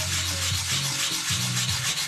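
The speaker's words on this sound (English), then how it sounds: "they're always out a couple of swipes of the sandpaper" Sandpaper rubs back and forth across a wooden part of a Windy U Master 811 model plane in several quick, close, rhythmic strokes.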